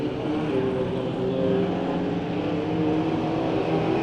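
Engines drone steadily at mid distance as race cars battle through a heat race at Santa Maria Raceway. A few sustained revving tones rise above the continuous roar.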